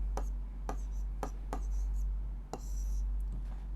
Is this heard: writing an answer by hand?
yes